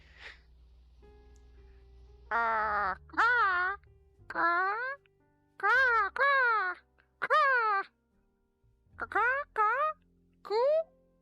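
A person vocally imitates a dumb crow with a series of wailing, warbling caw-like cries, about eight drawn-out calls in uneven bursts, loud and close.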